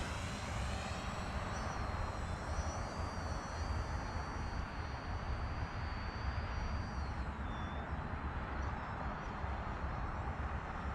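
A Fimi X8 SE drone on its first flight gives a steady, continuous propeller whine with a high buzzing tone that holds across the whole stretch, fairly near and without talk.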